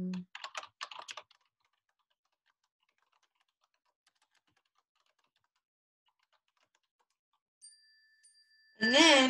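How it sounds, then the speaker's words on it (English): Brief burst of typing on a computer keyboard, a quick run of clicky keystrokes near the start, followed by long quiet and a voice resuming at the end. "So I'll type a little thing here."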